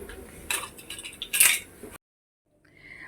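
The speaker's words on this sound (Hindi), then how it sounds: "तो बस इसका मैं लगा देती हूँ अब ढक्कन।" A metal lid is set onto a cooking pot of chickpeas boiling with a pinch of soda, giving a few clinking, clattering metallic knocks up close before the sound cuts to near silence.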